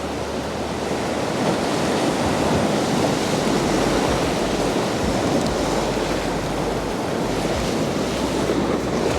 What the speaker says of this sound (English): actually watch these waves, just to make sure that I'm not going to get washed into the sea